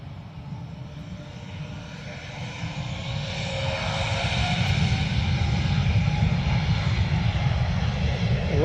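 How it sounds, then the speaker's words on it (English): A Lufthansa airliner departs Dublin Airport for Munich, its steady jet engine roar swelling from moderate to louder over several seconds and holding as a continuous broadband rumble with no talk. "Lufthansa heading back to Munich."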